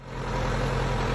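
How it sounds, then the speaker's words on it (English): A bulldozer's diesel engine idling steadily, a deep low rumble with a constant mid-range drone, close and loud with no voices, running evenly throughout. "Bulldozer"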